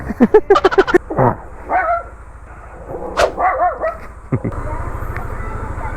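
A dog barks in a quick run of sharp, close yaps, then gives a few more scattered barks with pauses between them, and someone talks in between.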